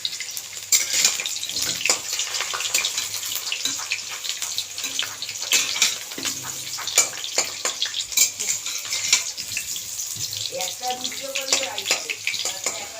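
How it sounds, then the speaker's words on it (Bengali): Potatoes fry in mustard oil with a steady, fairly loud hiss and crackle, broken by occasional clinks and scrapes of a utensil turning them. "যতক্ষণে আলুটা ভাজা হচ্ছে"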